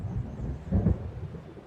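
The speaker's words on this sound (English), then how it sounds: "It seems there's a storm coming." A low rumble of thunder from an approaching storm rolls through in Alan Wake, swelling briefly to a louder peak midway before fading back into a dull, distant roar.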